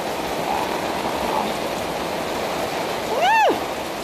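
Rainwater runs as a muddy red stream during a thunderstorm in Torrey, Utah, making a steady broadband rush of flowing water throughout. A brief chirping call rises near the end.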